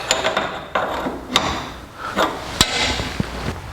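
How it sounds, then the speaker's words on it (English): A fuel line fitting is tightened at the tank outlet on a 1949 Chevrolet gasser, giving sharp metallic clicks and taps at irregular intervals, close and moderately loud, with no talking. "Let's tighten up the line coming out of the fuel tank."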